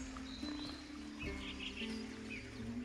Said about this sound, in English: you can listen to the melodious chirping of thousands of birds throughout the video